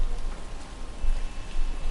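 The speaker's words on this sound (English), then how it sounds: "It's raining today." Steady rainfall in the crime video game L.A. Noire, a dense continuous hiss of drops on surfaces, close and even with no talk.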